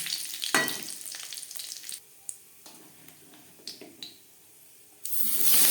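Panch phoron and dried red chillies hit hot oil in a pan, giving sharp bursts of crackling sizzle, quieter spitting pops between them, then a loud rushing hiss near the end.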